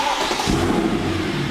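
A 1995 Mercedes C36 AMG (W202) or 2010 C63 AMG (W204) engine turns over and revs briefly, a close, loud burst of mid-pitched engine roar with no talk.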